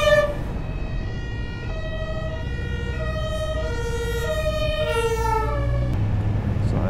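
A German fire engine's two-tone siren alternates steadily for several seconds in a village in the Eifel region, heard from a moving motorcycle, with a constant low engine and wind rumble underneath and no talking.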